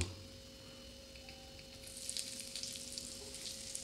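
Asafoetida (hing) sizzling in hot oil in a pan, a steady soft frying hiss that grows brighter and crackles more in the second half, with a faint background hum and no talking.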